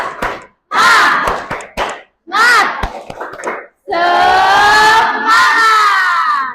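A classroom of students performs a rhythmic clapping chant, loud and close, with sharp bursts of claps between long, ringing group shouts.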